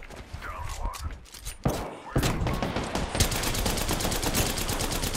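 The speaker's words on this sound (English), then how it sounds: "They're shooting at the dudes we were fighting." Rapid gunfire from the Apex Legends video game, with scattered shots early and then a sustained burst of dense automatic fire filling the second half of the clip.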